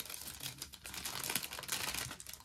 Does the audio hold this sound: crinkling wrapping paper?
yes